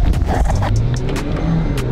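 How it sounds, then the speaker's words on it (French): A car engine in sport mode rumbles close by, with sharp exhaust pops and crackles scattered through a brief, loud burst. "Maman, j'ai activé le mode sport déjà. Ça pète bien"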